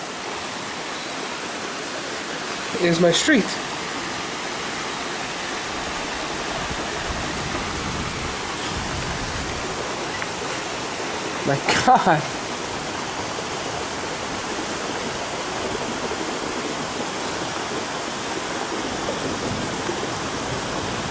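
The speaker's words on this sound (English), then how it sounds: "The entire street is nothing but a fucking river." Floodwater from a spring rainstorm rushes down a street like a river, heard from a fourth-floor vantage as a steady, broad roar with rain still falling, broken twice by brief exclamations from a person.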